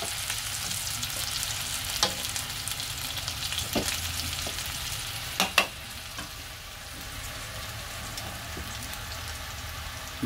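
Rat meat frying in a hot pan, a steady close sizzle with a few sharp clacks as the pieces are stirred, no voices.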